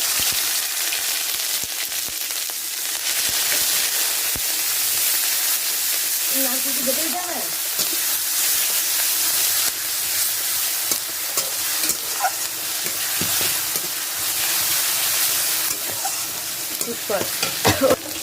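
Whole cardamom, cumin seeds and bay leaves crackling in hot oil for tempering, a loud dense sizzle with stirring scrapes and spatters, growing busier toward the end, with faint talking underneath.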